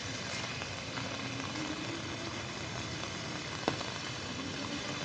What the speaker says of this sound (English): Because of the rain and wind, no one is out there.